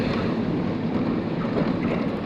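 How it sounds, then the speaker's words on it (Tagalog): Strong wind buffeting the microphone while riding in the back of a pickup truck in Cabanatuan City, a loud continuous roar and rumble with no voices. "Mahangin."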